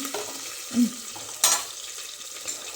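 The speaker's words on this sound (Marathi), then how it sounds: "जरा मिरची भाजली पाहिजे ना" Green chilies fry in oil with a soft, steady sizzle, broken by a couple of brief clinks and a sharp burst of spitting; close and fairly quiet, with no voices.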